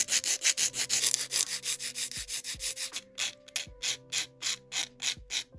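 Polygel nails being reshaped with a nail file: quick, even rasping strokes repeat in a steady rhythm close up, with faint tonal background music underneath.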